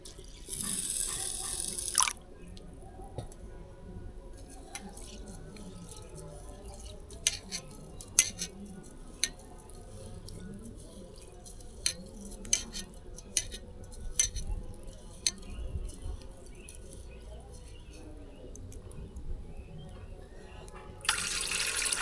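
Rice is washed in water in a home kitchen, with soft sloshing and scattered clinking of grains against the vessel through a long stretch, louder pouring bursts at the start and end, and no talking.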